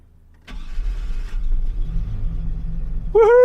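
A Chevy truck engine cranks briefly and then catches, settling into a low, close rumble that holds steady to the end.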